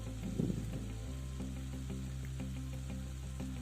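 Ground chili, coriander and cumin frying in oil in a pan for a pomfret fish curry, a steady close sizzle with light stirring scrapes over a constant low hum.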